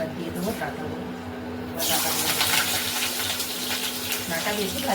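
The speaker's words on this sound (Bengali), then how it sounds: "কড়াই খুব ভালোভাবে গরম হয়ে গিয়েছে। এবার দিয়ে দেবো ডাঁটাগুলো।" Vegetable stalks drop into a very hot wok on a stove, and a loud, steady hiss of frying bursts in and continues close by under a background hum.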